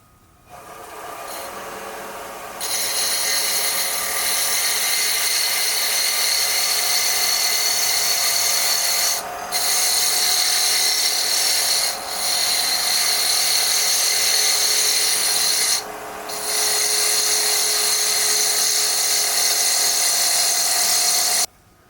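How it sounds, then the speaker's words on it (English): Wooden tippy top spinning on a lathe while sanded with 80 grit sandpaper, a steady loud high whine and hiss sustained for long stretches with a few brief dips. "I'm going to be using 80 grit sandpaper for that purpose."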